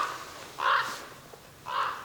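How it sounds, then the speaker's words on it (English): Crows or ravens caw in the woods, two distinct harsh calls spaced about a second apart, moderately distant against a quiet outdoor background. "Oh, the crows or ravens or whatever are out."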